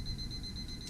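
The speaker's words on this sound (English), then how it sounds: "that's the refrigerator alarm in the background" A refrigerator alarm sounds inside a Forest River 2400S MBS Sunseeker RV as a steady, thin, high-pitched electronic tone that holds unbroken in the background.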